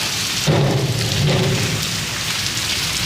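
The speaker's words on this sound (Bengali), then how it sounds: "ঘুরতে গিয়ে বৃষ্টির মধ্যে গেছি তো আমি একটু ভিজছি" Heavy rain pours onto a rooftop in Pakistan in a continuous dense hiss, with a brief low rumble near the start that fades under the steady downpour.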